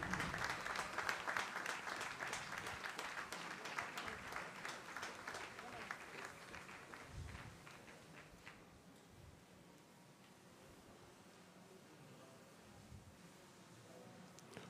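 Applause at a Barbados Defence Force recruit pass-out parade honours the best recruit, clapping strong at first and then thinning out to scattered claps, fairly distant.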